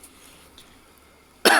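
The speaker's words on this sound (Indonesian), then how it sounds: "Maaf, batuk, teman-teman." After a near-silent stretch, one short sharp cough bursts out close by from a person driving along a Jakarta toll-road route.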